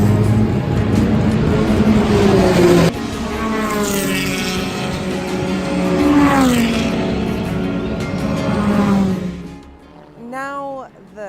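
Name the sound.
race cars on a circuit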